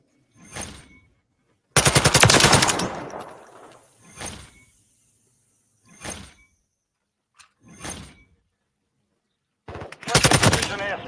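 Loud bursts of automatic gunfire from a Call of Duty match, with one long rapid burst, several short volleys spaced apart and a final sustained burst, close and dominant.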